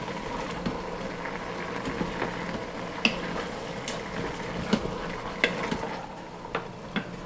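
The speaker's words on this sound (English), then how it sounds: "Stir this up in here." A spoon stirs beef taco soup inside an Instant Pot, giving a steady close churn with faint bubbling and several light clicks of utensil against the pot, and no one talking.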